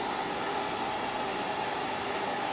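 A hair dryer blows continuously at close range, a loud, even rushing whir with a faint steady hum and no break.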